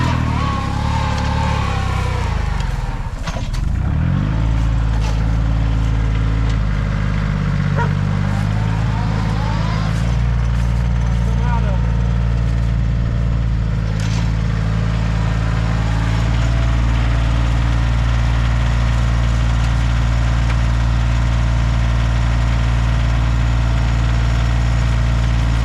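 A Farmall H and a Kioti CK2610 tractor idle and run together, with a steady low engine rumble throughout and a brief revving surge early on, close and loud.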